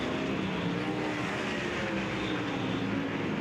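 Sprint cars racing at Lakeside Speedway in a Kubota High Limit Racing event, a dense, steady roar of several engines at once, loud and continuous with no voices over it.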